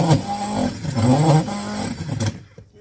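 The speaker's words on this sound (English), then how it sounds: "this is my new little mixer" A small kitchen mixer runs with a steady whirring drone that wavers in pitch, loud and close, for a couple of seconds, then cuts off into quiet.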